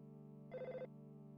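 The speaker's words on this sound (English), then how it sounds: "it seems that the phone is ringing" Telephone ringing in the video game Earthbound, one short electronic ring burst rising over a steady in-game music drone, fairly quiet and with no talk.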